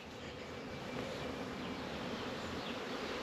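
A dense, steady buzz of many honeybees working close by at blooming apiary hives, continuous and unbroken with no voices.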